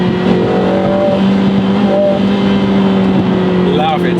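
A Lotus Emira First Edition with a 2-liter turbocharged four-cylinder from the AMG A45S, tuned to 360 horsepower, drones loud and close at steady revs. The engine note is continuous throughout.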